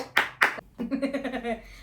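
Two sharp hand claps close together, followed by a short voiced sound with a rising tone.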